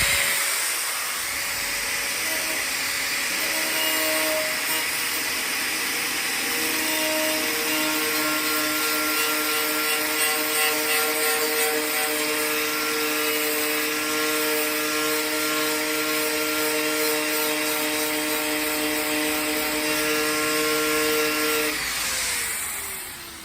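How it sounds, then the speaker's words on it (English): An angle grinder fitted with a wire brush scours rust from the boot of a Mercedes SLK R170, a loud continuous high whine with steady tonal hum and gritty hiss, running unbroken then fading at the end. "when you're using an angle grinder, whether it's got a brush or a grinding wheel in it"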